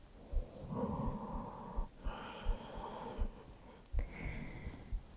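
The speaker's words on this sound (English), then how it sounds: "Listen to the sound of your breath." Slow, audible breathing during a restful yoga pose, soft airy inhales and exhales with a slight wheezy, nasal edge, close and quiet with no talking.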